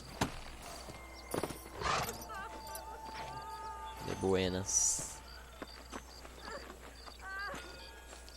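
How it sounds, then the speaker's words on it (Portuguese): A horse in the video game Red Dead Redemption clip-clops to a halt and lets out a loud whinny, while a character speaks briefly and other voices and game sounds play in the background. "Deixa eu estacionar o cavalo."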